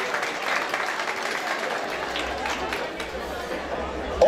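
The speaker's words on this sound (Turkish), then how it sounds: "Alkışlarınız." Applause and crowd noise from a gathering of a village solidarity and culture association in Erzincan, Turkey, with people talking over the clapping throughout.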